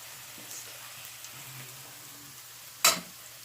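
Trinidadian bara dough frying in hot oil, a steady soft sizzle with a sharp brief crackle or clatter near the end, fairly faint and without talk.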